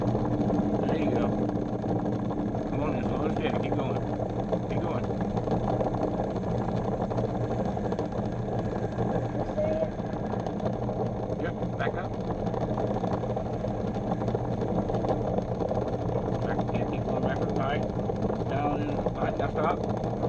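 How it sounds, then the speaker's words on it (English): A lathe runs continuously, giving a steady mechanical hum and drone throughout while people talk over it. "Turn off the lathe."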